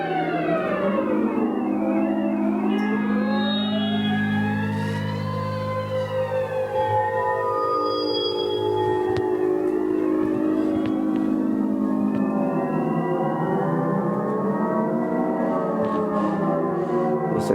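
Orchestral or electronic music about the Hiroshima air raid uses sweeping, wailing glissandi that imitate air-raid sirens. Many tones rise and fall across one another in dense, overlapping arcs, loud and sustained throughout.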